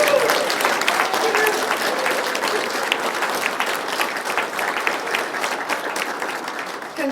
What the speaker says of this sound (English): please join me in a round of applause for our newest members